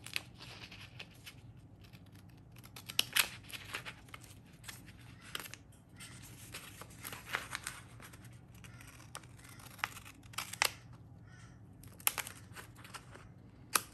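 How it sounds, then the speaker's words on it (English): Scissors snipping by hand through paper while setting up a B6 Stalogy planner, with tape sticking to the blades; quiet, scattered close-up snips and small crinkles at an irregular rhythm, with no talking. "I'm going to have to hand cut it."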